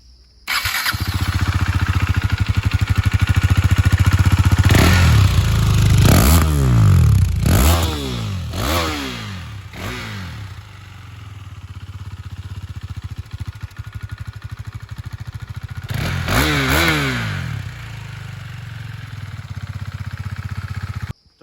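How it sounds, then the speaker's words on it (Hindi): KTM Duke 390 BS4 motorcycle idling loudly up close, with a cluster of sharp throttle blips around five to ten seconds and another pair near seventeen seconds, each rev rising and falling quickly before the engine settles back to a steady idle. "अब हम बात करते हैं इसके एग्जॉस्ट नोट के बारे में। मैं आपको सुना देता हूँ।"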